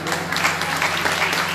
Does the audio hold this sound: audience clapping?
yes